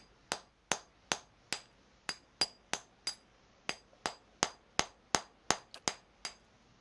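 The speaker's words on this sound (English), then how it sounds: "Hammer and chisel to weaken the wall." Hammer and chisel striking a stone wall in Pillars of Eternity: about eighteen sharp, ringing metallic blows land at a steady, slightly quickening pace, loud and close, with no other sound between the strikes.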